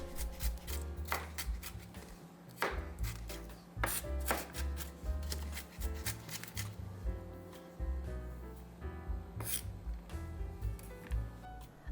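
A very large kitchen knife minces garlic on a cutting board in quick, uneven bursts of close, crisp chops, with short pauses between bursts. A low hum sits in the background and no one speaks.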